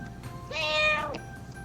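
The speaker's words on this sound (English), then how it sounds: "A cat, my favorite animal." A domestic cat gives a single clear meow of about half a second, fairly close and moderately loud, with faint background hiss before and after.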